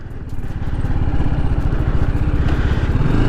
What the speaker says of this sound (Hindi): एक्सेलरेट नहीं कर रहा हूँ, क्लच भी नहीं दबा रहा हूँ, बाइक बंद नहीं हो रही है। तीसरा गियर भी लगा देता हूँ, ये देखिए।